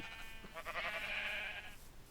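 Sheep in the Minecraft video game bleat in one drawn-out, wavering call that carries clearly over faint background sound.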